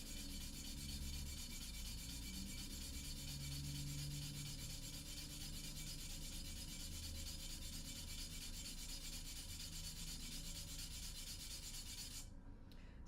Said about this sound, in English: if you use even pressure across the entire top of the reed, it should sand it evenly